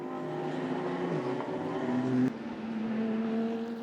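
A Lamborghini GT race car's engine roars loud and steady at the Estoril 12-hour endurance race, holding high revs with a brief shift partway through, alone with no talk.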